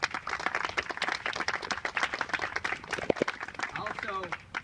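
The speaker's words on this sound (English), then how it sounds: "Please give them a round of applause." Audience applause for law enforcement officers at a political campaign kickoff event, a moderate spatter of clapping mixed with crowd noise and some voices over a few seconds.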